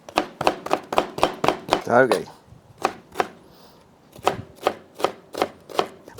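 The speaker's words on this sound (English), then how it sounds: "Just a little bit of chopping." A knife chops pepper steadily on a cutting board, sharp rhythmic knocks close up, with a brief spoken word and a pause mid-way.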